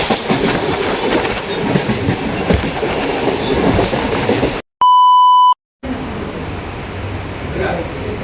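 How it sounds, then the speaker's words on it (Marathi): Mumbai local train in the rain: a steady close rumble and clatter of the moving train, broken by a loud pure electronic beep, then the rolling noise resumes. "फटाफट ट्रेन पकडूया."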